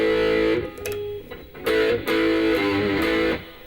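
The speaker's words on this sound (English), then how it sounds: "you can hear that overdrive or distortion, as we call it, beginning to kick in." Electric guitar with the gain turned up into overdrive distortion plays loud, sustained rock chords and notes with brief breaks between phrases, no talking.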